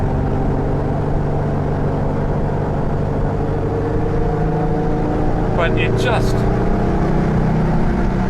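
A Subaru-powered Beck Coupe with a 5-speed cruises at a steady 3,800 RPM, its engine drone and road rumble continuous inside the cabin, while a voice speaks over it and a brief chirp appears near the end.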